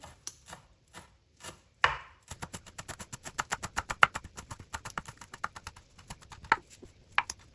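A knife chops vegetables on a cutting board while breakfast is prepared. Close, crisp chops fall in a fast, steady rhythm after a few slower opening cuts, with no talking.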